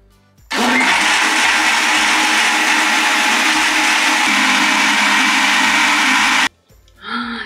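A kitchen blender churns cream with ice into butter, a loud continuous motor roar running for about six seconds at close range before stopping abruptly.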